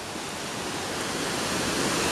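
Triberg Waterfalls in Germany's Black Forest, a steady, broad roar of falling water, dense and unbroken and slowly building in loudness, with no voices over it.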